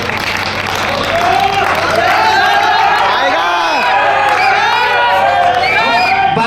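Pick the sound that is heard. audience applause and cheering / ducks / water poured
audience applause and cheering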